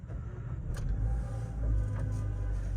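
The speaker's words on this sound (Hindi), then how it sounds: "तो गाड़ी को एक बार करता हूँ स्टार्ट" Engine of a 2024 MG Astor base model cold-starting, a steady low idle rumble close by with a slight swell in the middle and no talking.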